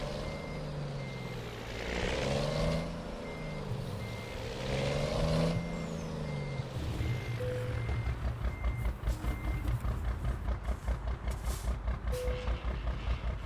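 Truck reversing a flatbed loaded with forklifts into a warehouse dock, steady reversing beeps over a low diesel rumble and air-brake hiss, then a rapid rattling engine idle, close and clear.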